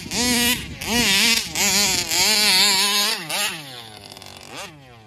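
A Taylor RC 71 Supreme model aircraft engine buzzes at quarter throttle, a loud, high nasal whine that surges and dips in several bursts before dropping away and revving once more.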